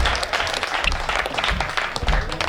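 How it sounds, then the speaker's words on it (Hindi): A seated audience at a comedy event claps, a loud, dense burst of applause running steadily throughout with a few scattered voices underneath. "तालियां बजाओ ना"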